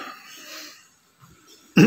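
A single sharp cough bursts out loudly at the very end, after a few seconds of faint breathing and shuffling in an indoor courtroom setting.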